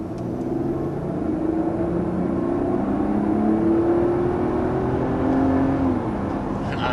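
2024 Mercedes GLS 450 SUV accelerating to 60 mph, heard from inside the cabin as a smooth steady engine hum with rising whir and road noise, continuous and moderately loud.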